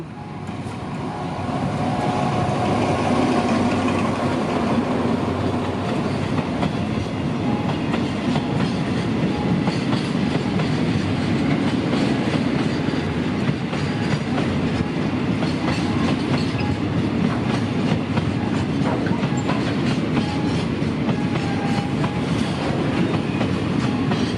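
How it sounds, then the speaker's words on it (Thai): Freight oil tanker train number 4145 rolls past on the railway near a level crossing in Bangkok, a loud steady rumble with repeated clickety-clack of wheels over rail joints filling the whole stretch. "นี่ครับ 4145 ครับขบวนน้ำมัน"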